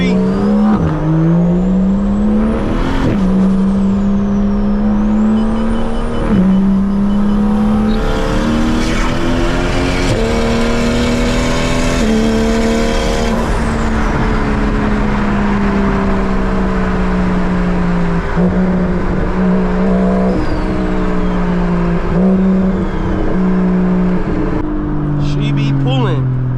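Single turbo N54 BMW 335i pulling hard through the gears, loud close engine and turbo note rising in long sweeps with brief dips at shifts, someone talking over it.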